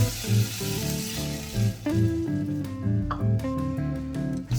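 A cup of water hits a hot pan of mutton Bukhari rice and sizzles steadily, a continuous crackling hiss heard up close with background music.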